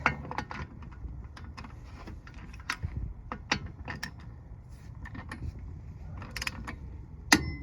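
Torque wrench tightening wheel lug nuts to 90 foot-pounds on a Ford Crown Victoria P71 with wheel spacers, close, scattered metallic clicks, ratcheting and creaks, ending in a sharper click.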